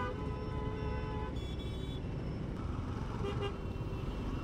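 Car horns honk in a city traffic jam, sustained nearby tooting layered over a constant rumble of idling and crawling vehicles.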